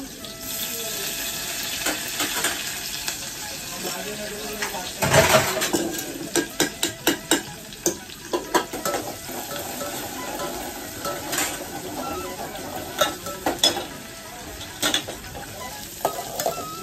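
Green chillies, onions and curry leaves fry in a tempering for dal palak, sizzling steadily while a utensil stirs and scrapes the pan in a run of sharp, irregular strokes, close and fairly loud.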